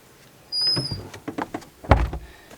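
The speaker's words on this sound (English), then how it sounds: "now we will again close the door" An old wooden cabin door being pushed shut, with a brief scraping slide followed by several light knocks and a firmer thump near the end, close and fairly loud in a quiet room.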